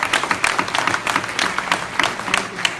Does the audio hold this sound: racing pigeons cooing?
no